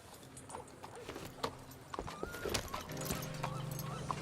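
Horse hooves clip-clopping in the video game Red Dead Redemption 2, a quiet irregular run of hoof clops with soft game ambience and faint background tones.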